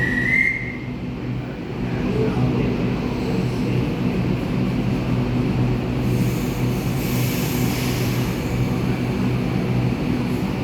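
Train at North Sydney station, a steady rumble of rolling stock close by that holds for about ten seconds, with a brief high whistle near the start.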